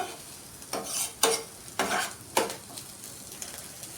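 Onions fry in a pan while being stirred: four or five distinct scraping strokes of a spoon against the pan over a soft background sizzle, close up and fairly quiet, then a few lighter taps, with no speech.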